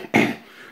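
A single deliberately faked cough from a person, one short, loud, breathy burst that quickly fades into quiet room tone.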